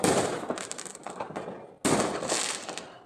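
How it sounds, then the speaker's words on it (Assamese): Firecrackers burst at midnight in Guwahati in dense crackling volleys, with two bursts of rapid pops and bangs separated by a brief gap, fairly close. "মোৰ মাছৰ ৰেচিপি বনাবলৈ ওপৰলৈ আহোঁতেই নন ষ্টপ ফটকা ফুটোৱাৰ শব্দ শুনি 12টা বাজিছে বুলি গম পালোঁ।"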